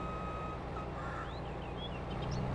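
In Farming Simulator 22, a truck backs up with a steady, evenly repeating reverse beep over a constant engine drone, while faint higher chirps come through near the end.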